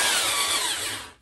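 A handheld drill spins a Sunnen hone inside a Mercury outboard engine cylinder. It makes a loud, steady, close whir and grinding rasp with no pauses, and the sound trails off at the end.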